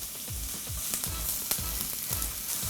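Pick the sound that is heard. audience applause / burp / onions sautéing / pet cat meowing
onions sautéing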